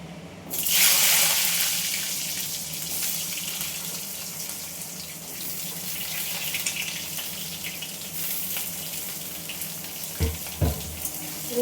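Pumpkin pieces going into hot oil with black cumin in a pan set off a loud hissing sizzle that slowly fades to a steady crackle, with clanks of utensils near the end.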